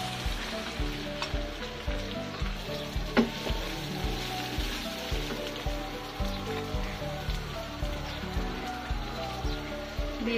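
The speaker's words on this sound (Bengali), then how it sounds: "মশলাগুলো হালকা ভাজা হয়ে গেছে এর ভিতর দিয়ে দিব ধুয়ে রাখা বাসমতি চালগুলো" Washed basmati rice tipped into lightly fried spices sets off a steady crackling sizzle with soft rhythmic stirring scrapes, close and continuous for several seconds, with no talk.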